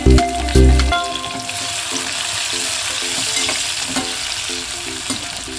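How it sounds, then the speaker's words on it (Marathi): Onion and tomato fry on a medium flame in a pan, giving a steady close sizzle with a few loud stirring clatters at the start. "म्हणजे मीडियम फ्लेमवरती फ्राय करायचा"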